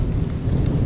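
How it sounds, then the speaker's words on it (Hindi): Rain falling steadily in a thunderstorm during a monsoon-season drive, with a dense, continuous wash of low rumble and hiss throughout, thunder blending into the broad roar without distinct separate claps. "बादल भी गरज रहे हैं, काफ़ी देर से यहाँ पे बारिश हो रही है।"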